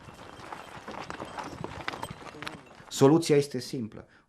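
A horse-drawn cart's hooves clip-clop steadily on a hard rural road in Romania under ongoing narration, with a louder burst of nearby voices near the end.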